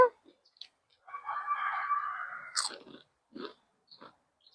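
Crispy fried okra is bitten and chewed, a few sharp crunches close to the mic, following a long hummed sound of approval.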